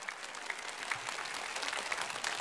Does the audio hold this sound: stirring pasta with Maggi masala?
no